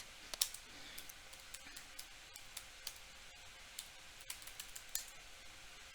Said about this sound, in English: All right, so I'm gonna type this.